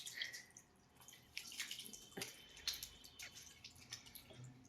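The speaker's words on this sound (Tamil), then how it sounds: "வாங்க ஃபர்ஸ்ட் கை கழுவு." Hands being washed under a running kitchen tap before cooking, with soft splashing and dripping water, fairly quiet and steady, with no one talking.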